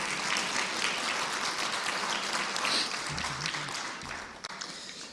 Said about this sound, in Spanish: después del aplauso que habéis dado